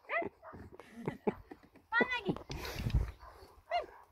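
A person imitates a dog with a few short vocal barks and whimpery yips, up close, between bursts of talking.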